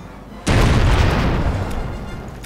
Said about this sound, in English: Left side cannons, fire.